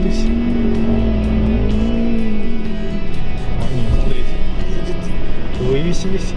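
A Toyota Hilux or Mitsubishi L200 pickup engine straining while cross-axled on a test, a loud steady drone with wavering revs and wheel noise, as someone talks over it.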